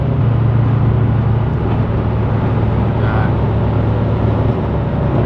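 A Nissan S13 240SX with its sound deadening removed drives across a bridge at night, giving a loud, steady cabin roar of road and engine noise that is heard close up and continuously.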